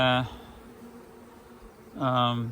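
A honeybee colony in a Bee Castle nuc hums steadily, with a loud, close buzz swelling at the start and again near the end over a quieter drone between.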